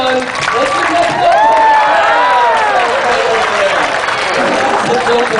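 A crowd at a talented-dog show claps and cheers loudly and steadily for a jumping dog, a dense sustained roar of applause with whoops rising over it.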